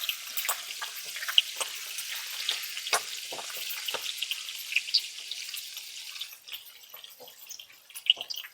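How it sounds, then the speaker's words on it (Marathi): Ginger, garlic and green chilli sautéing in a pan for prawn masala, a steady bright sizzle with occasional stirring scrapes and small pops, close, no talking. "आता याच्यामध्ये आपण आलं लसूण आणि हिरवी मिरची घालून घेणार आहे आता हे एक ते दोन मिनिटं परतवून घ्यायचं आहे आपल्याला"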